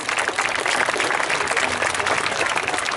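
Steady, dense applause from an outdoor crowd at a falconry display at a steam fair, clapping continuously and fairly loud throughout without a break.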